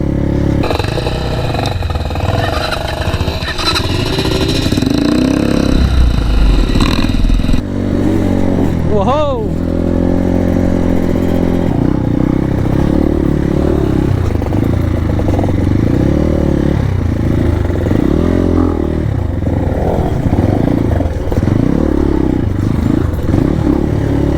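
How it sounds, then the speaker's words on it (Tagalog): An off-road motorcycle engine on a dirt trail near Porac, Pampanga runs loud and close, rising and falling as it revs, with a sharp rev sweep midway and voices talking over it. "Subok ang motor ni bro."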